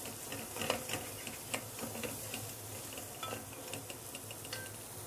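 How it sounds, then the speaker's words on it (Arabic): Tomato paste sautéing in a small knob of butter with a little oil, a steady low sizzle with scattered stirring scrapes and clicks from the pan throughout, moderately quiet and close. "ده بشوح معلقتين الطماطم"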